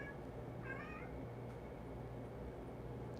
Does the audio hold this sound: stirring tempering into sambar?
no